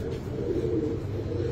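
Low, soft cooing from a Kabli striped pigeon, a steady murmuring drone that runs continuously and fairly close with no talk over it.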